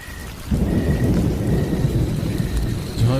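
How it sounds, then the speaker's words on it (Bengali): Heavy rain pours steadily through a thunderstorm, with a deep rumble of thunder underneath, loud and close, starting abruptly after a brief quiet moment and continuing without any voices. "ঝড় বৃষ্টি থামার কোনো লক্ষণ না দেখে আমি নিজেই ছাতা নিয়ে বেরিয়ে পড়লাম দোকানের উদ্দেশ্যে।"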